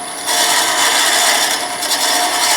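A hollowing tool scrapes steadily inside a turned wooden piece spinning on a lathe, a loud, close, continuous hissing rasp after a brief quieter start.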